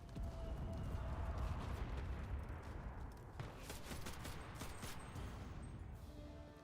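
Dense, continuous gunfire from a machine gun in the World War II shooter Enlisted, a sustained roar of overlapping shots with sharper bursts cracking through near the middle, loud and unbroken throughout with no talking.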